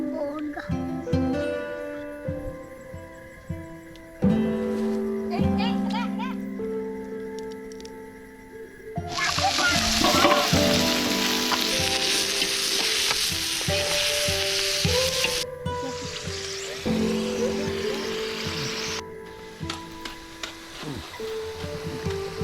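Onions fry for country chicken biryani on a stone slab: a loud, steady sizzle erupts partway through, broken by stirring scrapes and clatter, with light background noise before it.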